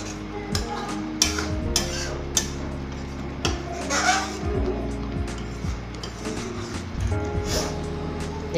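A pan of mango khatti meethi cooks on the stove, with a soft sizzle beneath scattered clinks and scrapes of a spoon against the pan and a low hum in the background.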